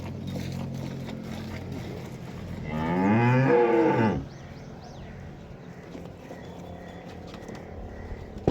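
A Friesian Cholistani cross cow in Pakistan lets out a single long, loud moo that rises and then drops away. Quiet farmyard background noise carries on before and after the call.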